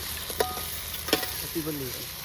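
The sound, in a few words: tempering being stirred and fried on village stove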